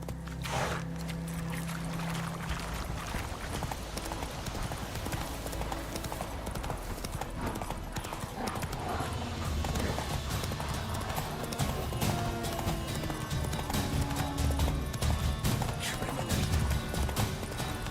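Hooves of the horse Roach in The Witcher 3 pound in a steady, continuous gallop rhythm, loud and close throughout, layered over a dense game soundscape of ambient effects and music.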